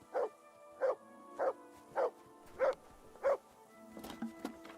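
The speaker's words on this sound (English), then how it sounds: "Good dog, Mats." A dog barks six times at a steady rhythm in Kingdom Come: Deliverance II, each sharp woof close and clear, followed by quieter clatter and movement.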